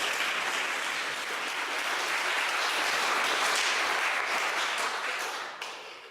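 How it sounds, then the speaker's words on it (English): A crowd applauds steadily, dense clapping filling the space for several seconds before tapering slightly at the end. "So can everyone give a big round of applause for Delano?"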